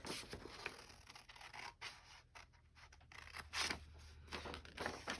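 Scissors cut through a paper sewing pattern while a waist-to-hip size blend is traced, giving a run of close, dry snipping and scraping strokes in irregular bursts, fairly quiet and without talk.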